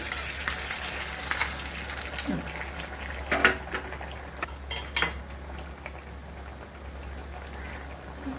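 Steady sizzling and crackling as hot tempering is added to a boiling okra curry, with a few clinks of a utensil against a pot, close and fairly quiet, no talking.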